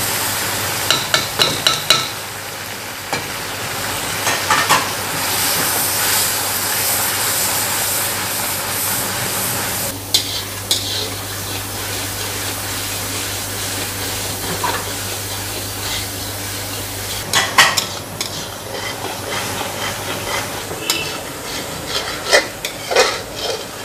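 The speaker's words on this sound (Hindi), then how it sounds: "अभी हमने जो टमाटर पीस के रखा था वो पूरा डाल देंगे इसमें।" Ground tomato poured into browned garlic paste in a pan for a lasooni dish, sizzling and frying in a steady hiss, with scraping stirring strokes over the top and no talk.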